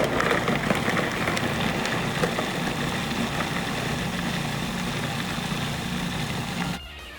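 A food processor grinds onion and carrots with a little olive oil: a steady, dense motor whir with chopping noise runs without a break for several seconds, then cuts off abruptly near the end.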